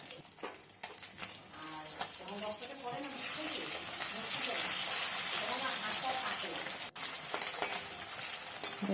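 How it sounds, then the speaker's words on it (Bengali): Small puti fish coated in turmeric and salt sizzle in hot oil in a kadai, a steady bright crackling hiss throughout, with a voice talking underneath for part of it. "হয়ে গেছে মাছ ভাজা"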